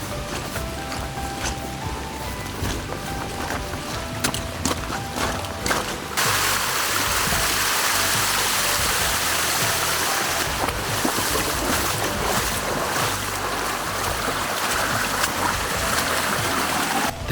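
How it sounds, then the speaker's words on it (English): Shallow water rushes and splashes steadily while people walk down a small stream in coastal Alaska, growing fuller and louder partway through, with no talk. "Now, we're gonna head down a little stream."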